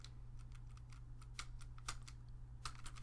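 Rapid, uneven keystrokes on a computer keyboard, sharp clicks in clusters over a steady low electrical hum, close by, with no voices.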